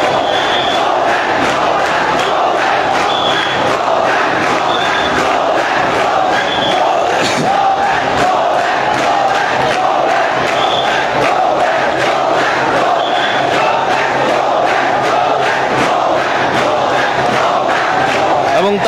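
Protesting students massed at Shahbag during the quota movement, a large crowd roaring and chanting slogans in loud rhythmic bursts that continue without pause throughout.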